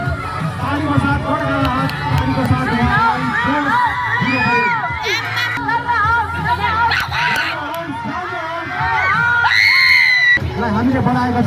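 Children at a school sports day shout and cheer in a lively crowd during a race for first and second place, the noise steady throughout with an announcer talking over it and a sharp burst of shrill cheering near the end.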